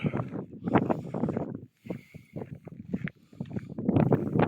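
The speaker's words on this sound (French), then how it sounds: "Oh, il y a du vent, hein." Gusty wind buffets the microphone outdoors at an estate in Aveyron, France, in rough, uneven bursts, rumbling loudly with brief lulls between the gusts.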